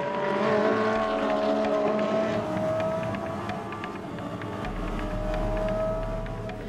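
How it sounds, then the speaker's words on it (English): Audi race cars at the 24 Hours of Spa, engines screaming at high revs with sustained tonal whines that shift pitch as they pass, loud and continuous. "The drivers are pushing their cars up to the highest possible level."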